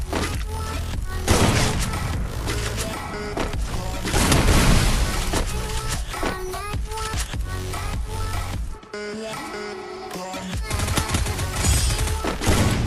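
Gunfire in a shooting video game: rapid bursts and single shots crackle in quick succession over a busy in-game soundscape, loud and close, with a short lull near the end before firing resumes.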